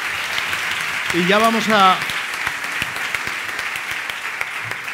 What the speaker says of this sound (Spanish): Un aplauso para él. ¡Bravo!